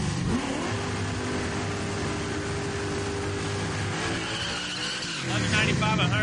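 A 1989 Mustang and a 1968 Roadrunner drag race cars launch side by side with loud, sustained engine roars and rising revs, then a brief dip before the engines surge again, with a voice talking over the noise.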